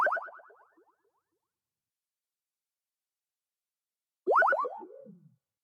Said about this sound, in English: Then we have this spaceship noise.